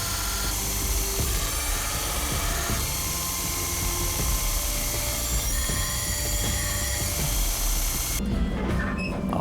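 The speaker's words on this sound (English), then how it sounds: "Here I'm just using my belt grinder to clean out the edges for a smoother and nicer socket." Belt grinder cleaning the edges of a forged iron spearhead socket, a steady loud grinding whine that runs continuously and then drops sharply near the end, with no talking.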